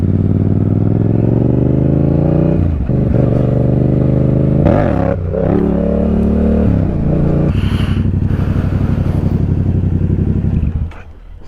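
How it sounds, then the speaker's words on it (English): A Yamaha MT-07 motorcycle roars loudly up close, its engine pitch climbing through gear changes and repeated revs, with a brief lull and scraping clatter before the engine note picks up again. "On that wheelie I just did, I feel like I got airborne."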